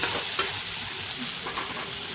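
Egg and carrot fry in a pan with a steady, loud sizzle and occasional stirring scrapes, no voices present.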